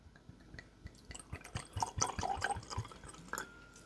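Bourbon whiskey is poured into glasses, liquid trickling and splashing softly in short gurgling bursts, close and fairly quiet, with a small clink near the end.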